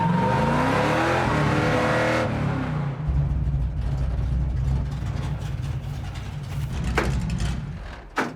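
The Wreck Runner race car, its brakes dragging, runs on a first test drive: a loud, steady engine roar with a drop in pitch partway through, then continued rumbling and clatter.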